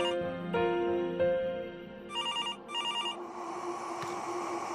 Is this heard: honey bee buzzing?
no